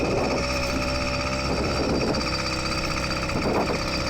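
An LA Hover Bikes Phantom 85 electric-assist motor on a bike under throttle alone without pedaling on a trail, a loud steady mechanical whine and rattle close up, rising and dipping slightly for about four seconds, no talking.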